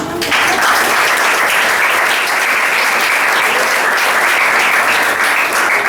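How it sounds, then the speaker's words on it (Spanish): A church congregation bursts into loud, sustained applause offered to the Lord during a Spanish-language sermon, a dense, even roar of many hands clapping close by that starts abruptly and holds steady throughout, with no voices over it. "Vamos a dar un aplauso al Señor"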